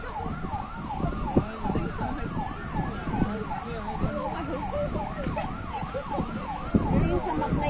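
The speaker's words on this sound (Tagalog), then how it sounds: "Ayun yung fire truck tsaka ambulance." Wailing emergency sirens rise and fall repeatedly over traffic rumble, fairly near and continuous, with a few sharp bumps.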